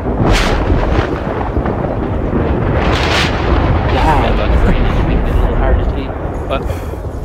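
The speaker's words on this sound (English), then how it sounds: "That's quite the thunder." Thunder in The Hunter: Call of the Wild: a loud, sustained rolling rumble that swells and lingers, with people talking over it.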